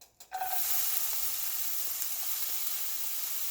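Chopped red Ethiopian onion dry-roasting in a pan with no oil gives a steady, close sizzle that starts after a brief clatter and holds evenly to the end, with no voices.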